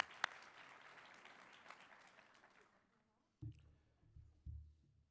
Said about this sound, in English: Let's give our president a round of applause.